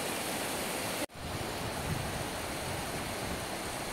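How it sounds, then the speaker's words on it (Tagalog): Locong Falls waterfall in the Philippines, a dense, continuous broadband roar of falling water heard up close, broken only by one brief dropout near the start. "Dito kami ngayon sa Locong Falls."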